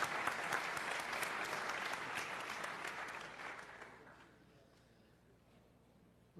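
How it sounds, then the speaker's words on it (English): Audience applause at a talk, dense and steady clapping from a crowd that gradually thins and fades over several seconds. "Big round of applause for Mr. Jeff King."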